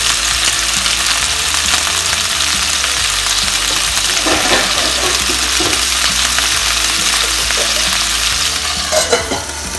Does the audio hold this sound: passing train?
no